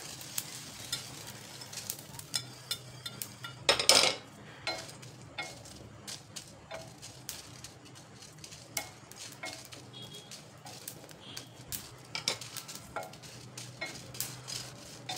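Whole spices and Byadgi chillies dry-roast in a pan for jiravan masala. A spoon scrapes and taps in a loose, irregular rhythm over a faint sizzle, with one louder clatter early on and no voices.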